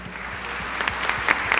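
An audience claps for an honored guest at a formal Catholic academic event, a dense, even wash of clapping with a few sharper close claps rising toward the end.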